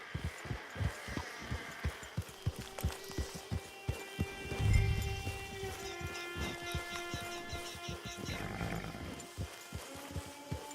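A horse's hooves beat a steady galloping rhythm in Red Dead Online on PS4, with regular thudding strikes over a low droning, tonal game soundtrack.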